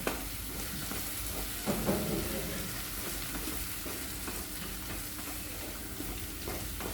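Homemade masala fries in a pan for a dhaba-style tadka, with a steady close sizzle broken by the scrape and clatter of stirring.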